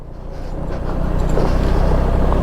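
A motorcycle engine drones while riding on a rough, slippery road, a steady rumble that swells slightly louder, with wind buffeting the microphone.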